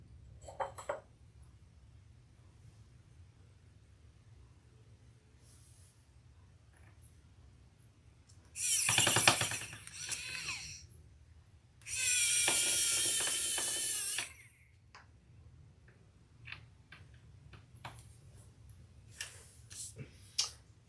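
A handbag maker turns screws into metal hardware on a crossbody handbag, giving two loud bursts of rapid ratcheting clicks from a hand screwdriver between quieter stretches of faint handling noise.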